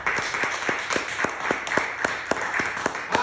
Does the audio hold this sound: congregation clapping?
yes